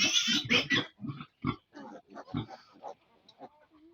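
A sow and her three-day-old newborn piglets grunt in a backyard pen, a close run of short, rapid grunts and snorts that are loud at first, then thin out into softer, scattered grunts.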